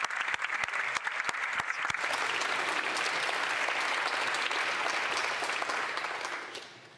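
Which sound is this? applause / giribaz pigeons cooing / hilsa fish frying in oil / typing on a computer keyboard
applause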